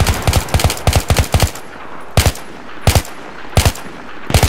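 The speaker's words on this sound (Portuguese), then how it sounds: "Ó, tem um cara ali em cima me atirando" Gunfire in the video game Battlefield 3: close, sharp bursts of automatic rifle shots, with rapid clusters at the start followed by spaced single shots and short bursts, loud and alone.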